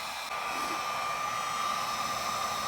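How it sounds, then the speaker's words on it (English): Heat gun blowing hot air on a heat-shrink solder wire splice, a steady close whooshing hum with a faint tonal whine, continuous throughout and no speech. "use the heat gun, get it hot, and it shrinks and melts"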